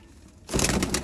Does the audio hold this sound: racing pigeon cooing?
yes